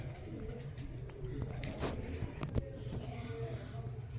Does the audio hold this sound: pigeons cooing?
yes